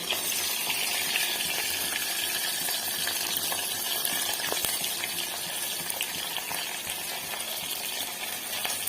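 Chopped onion fries in a pan for green rice pulao, giving a steady, dense sizzle that holds at an even loudness throughout without any speech.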